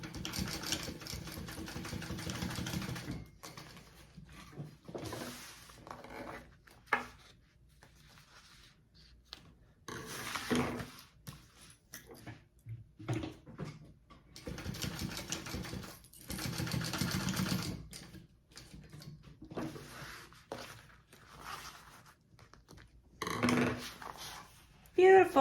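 Sewing machine basting a bag's back panel in bursts of stitching, stopping and starting several times, with voices talking at points between runs.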